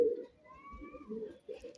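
Faisalabadi pigeon with silver eyes giving low, soft coos in a couple of brief phrases, close by, against a quiet background with a faint higher whistling tone.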